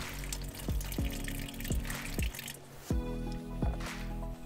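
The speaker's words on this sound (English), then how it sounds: "we just occasionally top it off with glycol." Glycol dripping into a camper's Alde 3020 boiler system as it is topped off, a steady series of distinct plopping drips about every half second over a low background hum.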